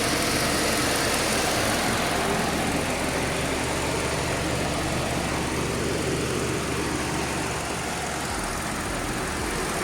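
A 2017 Hyundai Sonata with a 2.0 gas engine idles with the hood open, a steady even hum and rumble close by, unbroken and with no talk.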